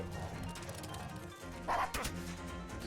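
Dogs attacking in the turn-based strategy game Wargroove, with short game-audio yips and bow-wow barks over busy music and effects, moderately loud and brief.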